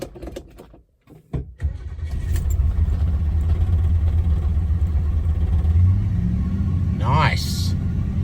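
A 1972 Lincoln Mark IV engine cranks and catches after a short silence, then settles into a loud, steady low rumbling idle with a brief rise in revs; people talk faintly over it.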